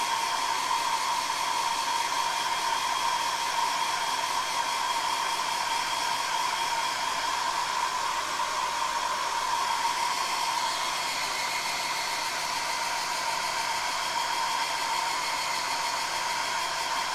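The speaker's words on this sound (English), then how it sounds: "let me give that a quick blast of the hairdryer" A hairdryer blows steadily and close for the whole stretch, a constant airy roar with a whine through it, used to dry paint on a Warhammer miniature.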